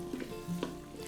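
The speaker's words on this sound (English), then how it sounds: "So I hear this sizzling." Soft sizzling of vegetables frying in a pot for ham and split pea soup, quiet and close, with a few light scraping stir sounds.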